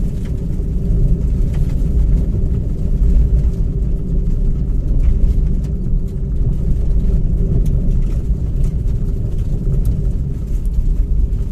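Steady low engine and road rumble from inside a car driving at a constant pace with the air conditioning off, continuous and even throughout with no talking.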